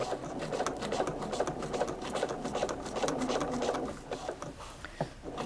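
A sewing machine stitching one side of a velvet pillow alongside piping that holds electroluminescent wire: a fast, steady mechanical chatter of needle strokes, close and continuous, easing slightly near the end.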